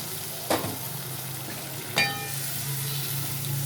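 Water poured into a sizzling potato and eggplant curry in a pan, giving a steady loud fry hiss with two sharp bursts as the liquid hits the hot oil.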